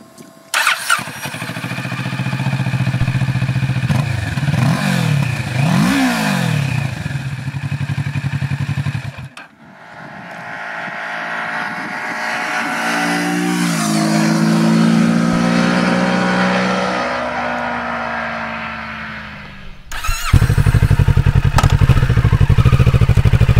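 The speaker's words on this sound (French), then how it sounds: "La machine sonne bien, le son s'adapte à la moto et enfin il y a un caractère jumeau honnête en ligne" A Kawasaki Ninja 650 parallel-twin motorcycle engine revs loud and close, rising and falling in throttle blips, then holds a long swelling rev before dropping back and firing up again.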